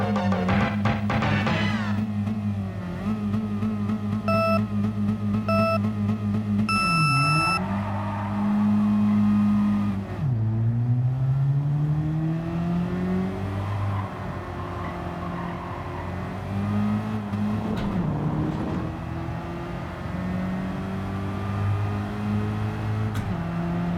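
A 1983 Volkswagen Golf I GTI, a front-wheel-drive hatchback, is driven hard in a racing video game. The engine revs loud and close, climbs through the gears with repeated dips at each shift, and drones on at high revs with no talk.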